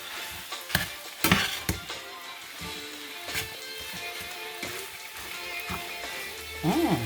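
Rice frying with other ingredients in a pan for coconut fried rice, with soft sizzling under intermittent clanks and scrapes of a utensil stirring, close and moderately loud.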